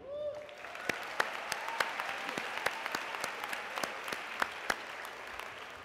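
Audience applause at a spring graduation convocation honoring faculty and staff, a steady wash of many hands clapping with sharp individual claps standing out, continuous for several seconds.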